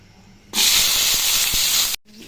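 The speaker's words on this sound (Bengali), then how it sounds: "পাওয়া পুঁই শাক পাতা ধুয়ে নিচ্ছি" Tap water gushes loudly while Malabar spinach leaves are washed, a steady close hiss that starts abruptly and stops just as suddenly after about a second and a half.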